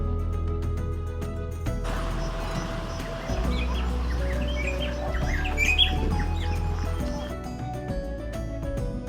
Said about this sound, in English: And it got busier when we found our first Hildebrandt starling.